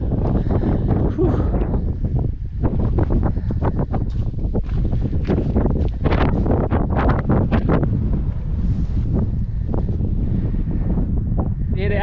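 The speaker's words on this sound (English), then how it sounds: "And it's windy." Strong gusting wind on open moorland at Bodmin Moor, Cornwall, buffets the microphone, loud and continuous with rising and falling rushes of air.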